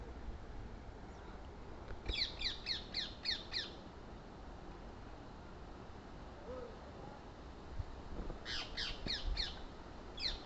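A parrot attacking a snake gives two bursts of harsh, rapid squawks, each about five calls in quick succession, loud and close, separated by several seconds of low outdoor background.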